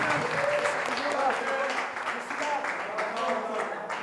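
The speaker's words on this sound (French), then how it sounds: "Sous vos acclamations, s'il vous plaît." Sustained audience applause at a press conference, a dense steady clapping that carries on for several seconds, with a voice speaking over it.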